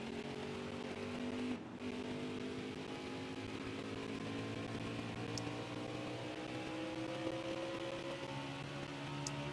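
Engines hum in steady drones with rising and falling tones, several NASCAR cars racing at New Hampshire in the video game NASCAR Heat 5, faint and continuous.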